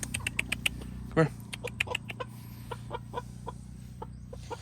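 Chickens cluck softly and sporadically near a tiny house in the Philippines, with scattered short clucks and one louder squawk over a low steady background hum.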